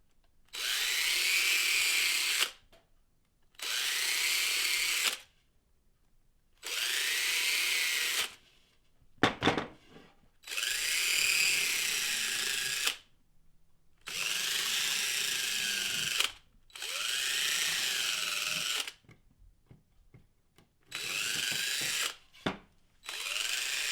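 A power drill bores and elongates holes in heavy wooden snowshoe frames, whining in repeated bursts of two to three seconds separated by short pauses, close and clear with no talking.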